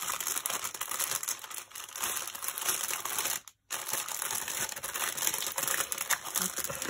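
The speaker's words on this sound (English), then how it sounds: "Sorry about the crinkling." Plastic packaging from a diamond painting kit crinkles and crackles steadily up close, a busy rustling texture with a brief silent break partway through, and no voices.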